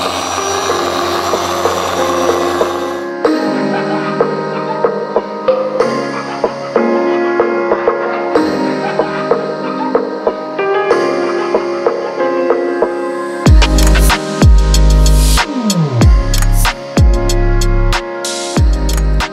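A dual action car polisher runs with its backing plate spinning freely, giving a steady, close motor whine with shifting pitch, followed by a few heavier low thumps near the end.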